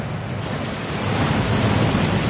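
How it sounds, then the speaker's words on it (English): Waterfall at Gringotts bank in the Hogwarts Legacy video game, a steady loud rush of falling water with broadband roar, continuous and close, no voices. "That waterfall washes away all enchantments."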